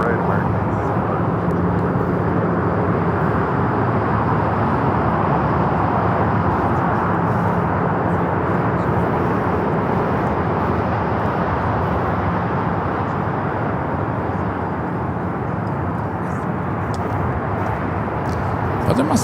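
An American Airlines jet takes off from runway 25 right at LAX, a loud, steady, broadband engine roar sustained for the full stretch, close and dominant without any break.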